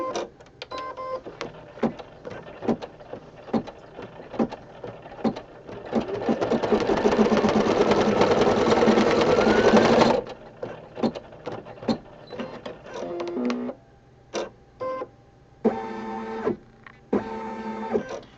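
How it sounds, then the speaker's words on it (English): An embroidery machine runs a placement stitch on fabric for a rug, giving a sustained mechanical whir for several seconds that is framed by scattered clicks and taps before and after. "I'm going to run a placement stitch, run number 19"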